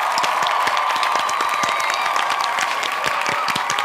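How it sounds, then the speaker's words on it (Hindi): A live television-show audience applauds the top three finalists at a Bigg Boss season finale, with steady dense clapping sustained at even volume throughout, no voices standing out. "एक बार फिर से तालियां हो जाइए हमारे टॉप 3 के लिए"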